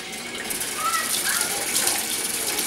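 Green onions are rinsed under running tap water, a continuous close splashing rush that grows slightly louder and stays steady throughout.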